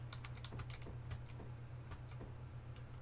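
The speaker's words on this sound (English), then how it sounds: "I'm using my left hand way over on the right side of the keyboard" Computer keyboard typing, a run of quick, light key clicks in an uneven rhythm, close but fairly quiet over a steady low electrical hum, with no voices.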